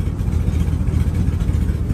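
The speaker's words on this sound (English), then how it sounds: "It's got an exhaust leak at the passenger side pipe where it comes up and meets the manifold collector." A 2019 Ford E350 van engine idles with an exhaust leak at the passenger-side pipe where it meets the manifold collector, giving a steady, rough low rumble with a fluttering, puffing texture throughout.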